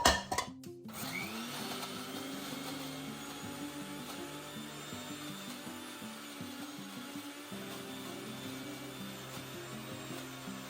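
A mixer grinder whirs through onion chutney, a loud steady motor drone with a grinding rattle that starts abruptly and runs continuously, pitch shifting slightly partway through.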